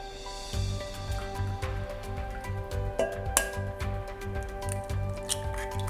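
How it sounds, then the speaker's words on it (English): Two eggs are cracked into a mixing bowl: small sharp taps and clinks against the bowl repeat across the clip, close and fairly quiet over a faint kitchen hum. "We're going to use 2 eggs. Crack them into our mixing bowl."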